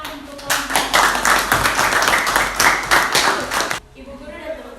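Students applauding in a classroom, a loud, close burst of rapid overlapping hand claps that stops abruptly, followed by a quiet moment with a faint voice.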